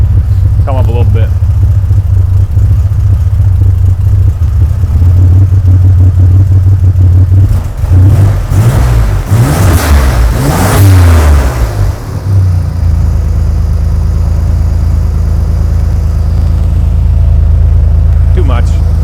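An AWD turbo S10 pickup with a junkyard engine idles, then revs hard in several rising and falling bursts before settling back to a steady low rumble, loud and close with voices speaking.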